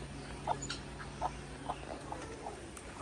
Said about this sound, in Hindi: तो अब हम दूसरा मुर्गा भी खोल लेते हैं।